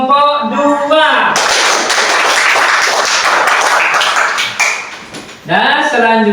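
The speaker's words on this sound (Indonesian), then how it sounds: "Tepuk tangan untuk kelompok 2." An audience claps for group 2 at a teacher-training event, a few seconds of dense, loud applause between stretches of a speaker's voice.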